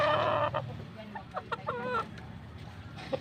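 A gamecock rooster clucks and chortles close by in a short run of throaty, wavering calls, which starts loudly, then breaks into choppy clucks.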